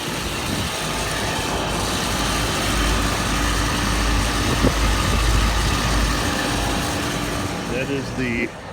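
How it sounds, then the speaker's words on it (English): A Carrier air conditioner's first-stage scroll compressor runs with a steady, noisy low drone and a rough mechanical hum, fairly close, with a few faint knocks near the end. "That noise from that compressor, that's the first stage scroll."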